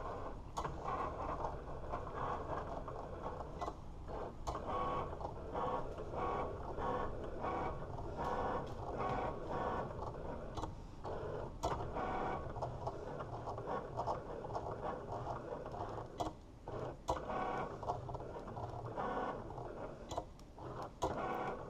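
Cricut Explore cutting machine drawing wording onto a paper tag, a steady close mechanical hum with frequent small ticks and clicks from the moving carriage, no talk.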